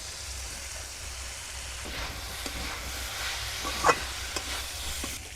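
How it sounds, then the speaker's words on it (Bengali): Ginger paste and spices frying in a pan while being stirred: a steady close sizzle with repeated scraping strokes of a spoon and a brief sharper clink near the middle, no voices. "নাড়াচাড়া করে নেবো এবার আদা কোরানোটা দিয়ে দেবো"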